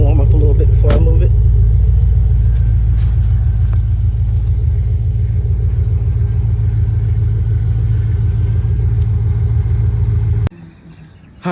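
A Pontiac G8 GT engine idles while warming up with a steady low rumble, running evenly for about ten seconds before cutting off, with faint talk over it.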